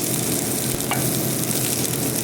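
Red onion hits a hot pan and sizzles as it fries for a chicken dish, giving a steady, dense crackle that stays even throughout with no one talking.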